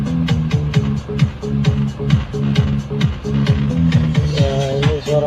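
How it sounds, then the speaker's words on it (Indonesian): Music from an aftermarket DVD head unit in an old Daihatsu Feroza Megatop, heard inside the cabin as a steady rhythmic song with a firm bassline and regular beat, fairly loud with no talking. "Ya, ini suara musiknya ya kawan-kawan."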